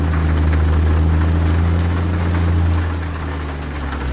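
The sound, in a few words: heavy rain on truck in American Truck Simulator video game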